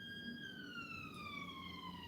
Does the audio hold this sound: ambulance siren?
yes